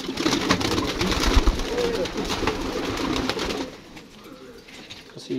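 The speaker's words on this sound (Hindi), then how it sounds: "यहाँ पे एक कबूतर है जो मुझे सबसे अच्छा इनका सियालकोटी कबूतर लगा" Sialkoti pigeons cooing among a dense, noisy mix of birds outdoors in Azad Kashmir. The soft low coos run continuously under broadband background noise, which thins out toward the end.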